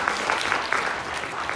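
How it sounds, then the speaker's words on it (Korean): A seminar audience applauds a secretary general after a presentation on social welfare policy at a Korean forum. The clapping is dense and continuous, with individual claps popping through the wash for the whole short stretch. "다시 한번 큰 박수 부탁드리겠습니다"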